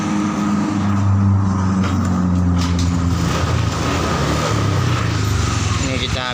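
The injected engine of a Honda Vario 125 scooter with a stalling fault is started and held on the throttle, a loud close idle with steady low engine tones and a few throttle blips, under someone speaking.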